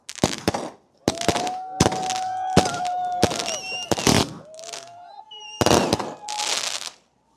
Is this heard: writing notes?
no